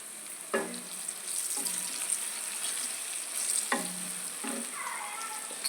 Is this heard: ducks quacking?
no